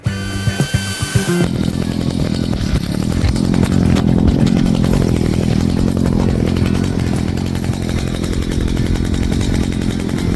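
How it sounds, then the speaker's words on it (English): An electric hedge trimmer cuts along a hedge with a loud, continuous buzzing drone close by. A few sharp clatters come just before the motor settles into a steady run. "sort of hold the hedge trimmer stable and just walk along with it"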